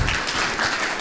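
Audience applause at a Christian gathering, a dense, steady wash of clapping that lasts the whole second, loud and close with no gaps.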